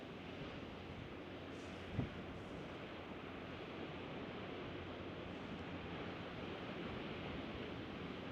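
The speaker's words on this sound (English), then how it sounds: "See the power in the ocean" Ocean surf on the Cornish coast near Cligga Mine, a steady, loud broadband roar of waves breaking below, with wind buffeting the microphone and one brief knock near the start; no talking.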